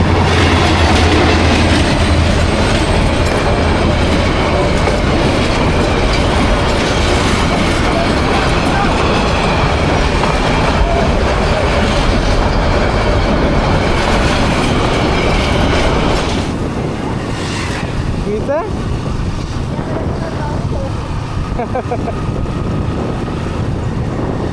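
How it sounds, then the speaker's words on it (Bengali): A local train rolls past near Belai Bil in Gazipur, a loud, continuous rumble with rhythmic clickety-clack of wheels and heavy wind buffeting, easing slightly toward the end. "ও, এটা একটা লোকাল ট্রেন।"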